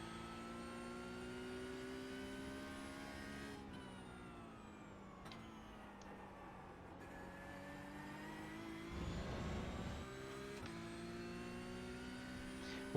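A Porsche GT3 Cup race car engine in iRacing at Sebring runs steadily, then short-shifts up through the gears. Several clean breaks in the tone mark each upshift, and the revs climb again after each one. The engine note stays loud and continuous throughout.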